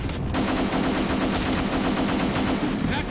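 Rapid automatic gunfire from a gun in Black Squad, a loud, continuous stream of closely spaced shots with no break.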